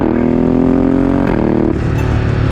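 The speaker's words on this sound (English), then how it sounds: "it also makes absolutely insane noises when upshifting with the quick shifter" A Ducati Multistrada 1260S V-twin screams under hard acceleration, its loud rising engine note broken by quick-shifter upshifts that drop the pitch abruptly twice within a couple of seconds.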